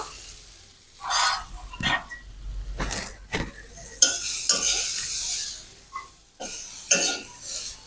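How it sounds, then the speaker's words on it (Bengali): Diced potatoes fry with turmeric and salt in a pan, with intermittent scraping and stirring bursts and short sizzling between quieter gaps. "একটু হলুদ দিয়ে দেবো করে একটু ভেজে নেব ভালো করে"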